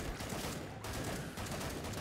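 Rapid bursts of video game gunfire fill the stretch, with a brief gap midway, loud and continuous with no talking.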